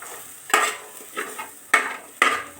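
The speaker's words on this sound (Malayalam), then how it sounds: "അത് കഴിഞ്ഞിട്ട് നമുക്കിത് നന്നായിട്ടൊന്ന് ഇളക്കി കൊടുക്കാം." Chicken noodles seasoned with chili and pepper powder being stirred in a pan, four distinct scraping stir strokes with faint sizzling, close and alone without talk.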